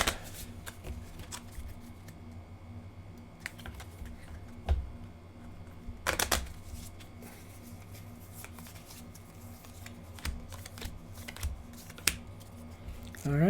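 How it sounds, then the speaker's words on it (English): Cards from a Legendary Encounters Alien and Predator deck-building game deck being shuffled, close up, in a series of soft riffles and sharp snaps spread unevenly across the stretch. "we will shuffle these to get it up to 6"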